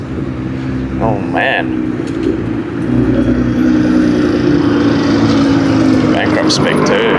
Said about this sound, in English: Just a random Liberty Walk Silhouette GTR coming through.